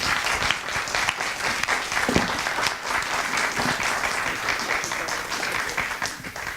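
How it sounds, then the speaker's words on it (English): A round of applause for a speaker at a Surrey Board of Trade energy week event: dense, sustained clapping from a large audience, loud and even throughout with no talk over it. "a round of applause to Rob,"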